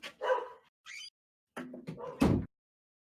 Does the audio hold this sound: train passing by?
no